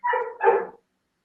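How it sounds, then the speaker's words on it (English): A dog barks twice in quick succession, short and fairly close, then silence follows. "Acknowledge the dog barking in the background."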